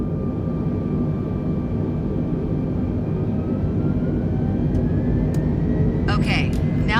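Airliner jet engines in a flight simulator game roar steadily as the thrust levers advance toward takeoff power, with rising whining tones layered over a broad rumble; someone talks over the engine noise throughout.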